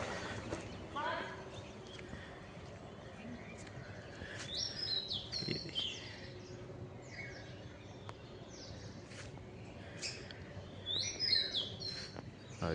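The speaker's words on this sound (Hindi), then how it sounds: "और पूरे स्कूल में पक्षियों की बड़ी चहचहाट आ रही है।" Birds chirp and tweet around a school grounds at sunrise, scattered bright calls coming from several directions at a moderate distance, over a soft outdoor background with faint voices and occasional knocks.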